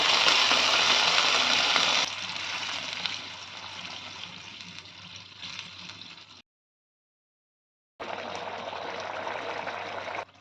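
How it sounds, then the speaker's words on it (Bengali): A little water pours into a spiced potato mixture, starting as a loud gushing splash and easing into a softer trickle. After a short stretch of complete silence the pouring resumes. "ভালো করে মিক্সড করে নিয়ে দিয়ে দেব অল্প একটু জল।"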